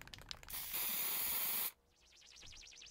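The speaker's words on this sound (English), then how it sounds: "What are you spray painting?" Spray paint can hissing in a video game, a steady loud spray lasting about a second before cutting off into quieter wavering background tones.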